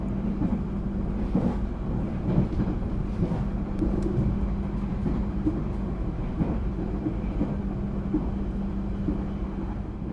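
Kertajaya premium economy passenger train with first-generation 2018 stainless steel carriages, heard from inside as a continuous low rumble and hum with faint rhythmic wheel rattles throughout.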